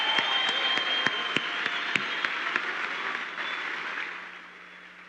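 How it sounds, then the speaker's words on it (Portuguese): Applause from an audience at a political congress in Paraná: dense, sustained clapping from a crowd with a few sharper claps standing out, fading toward the end. "Uma salva de palmas para Arthur Duval."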